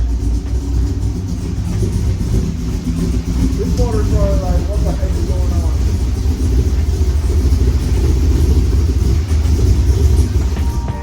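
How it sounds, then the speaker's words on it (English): A Chevrolet Corvette C6 engine that is running rough and needs a tune idles loud and close, with a steady, uneven rumble that continues for the whole stretch. "this motor does not sound good, and that's because it's not running good"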